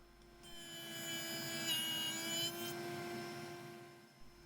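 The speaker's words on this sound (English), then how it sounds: "I'm just running through with a slotting bit, and then we'll infill it with offcuts." A router with a slotting bit cuts a mortise into a curved wooden arm for a Morris-style lounge chair, a steady high whine and rasp of wood rising for a few seconds then easing off, close and alone.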